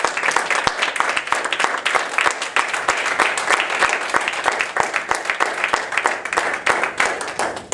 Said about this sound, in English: I want you to have a big round of applause, big welcome for Rosemary Burke